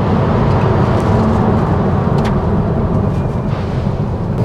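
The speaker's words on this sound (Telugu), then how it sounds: "ఫుల్ థ్రాటిల్ ఇచ్చేసాను నేను ఈకో మోడ్లో" An MG Windsor EV drives on slushy road at full throttle in eco mode, giving off a loud, steady roar of road and wind noise with a low rumble that holds throughout.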